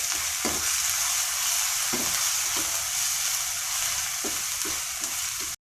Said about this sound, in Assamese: এইখিনি অকণমান ভাজি ল'ম যাতে ৰহুনৰ গন্ধখিনি নোহোৱা হয়